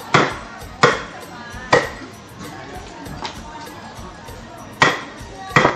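A knife chops a giant Mekong River fish with hard bones, loud sharp thuds landing at irregular intervals close by, each one ringing out briefly over a murmuring background.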